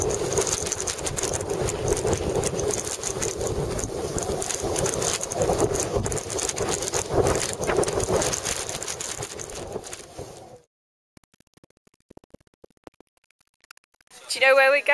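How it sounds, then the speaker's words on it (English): Strong, freezing wind blows outdoors in a biting wind chill, roaring and buffeting loudly against the microphone for about ten seconds before it cuts off to near silence with faint scattered noises. "This is what we have to put up with every morning. Crazy winds."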